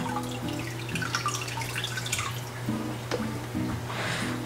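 Water pours and splashes steadily from the outlet of a GEX 2045 external aquarium filter into a tank, a close, continuous trickling flow with no talking.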